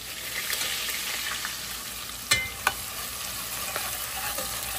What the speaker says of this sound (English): So we're cooking our garlic. Stir fry it a little bit so you can get that aroma.